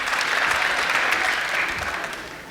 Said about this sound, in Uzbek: Qani qarsak.